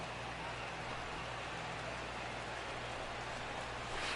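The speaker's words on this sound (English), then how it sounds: "The rain, as we've mentioned, coming down fairly steadily here at game time." Steady rain falling on a ballpark during a baseball video game, a broad, even hiss that holds at a constant level throughout, with a brief sharp tap near the very end.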